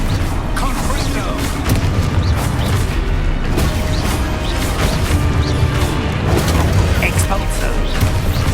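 Confringo fire spell blasts in Hogwarts Legacy, booming explosions and crashes layered over a dense, continuous wash of loud battle noise that fills the whole stretch.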